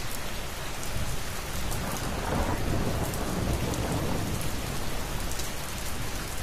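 Steady heavy rainfall with rolling thunder, a dense constant downpour hiss and a low rumble swelling in the middle, no voices.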